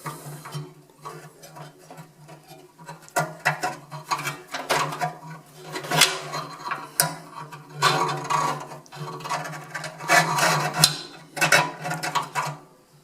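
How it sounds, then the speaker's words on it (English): Wire from a replacement temperature probe is threaded into a Pit Boss pellet grill, giving close, irregular scraping, rattling and mechanical clicks over a low steady hum. "Now start threading it in."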